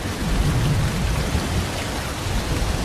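Steady, loud rain pours down in a dense hiss, continuous throughout with no voices.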